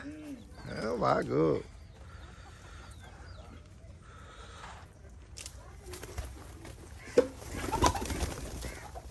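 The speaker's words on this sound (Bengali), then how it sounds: "বাহ নানার কবুতর এগুলা" Pigeons coo and flutter close by at a rural home while they are being fed, mixed with low background noise and brief bursts of nearby chatter.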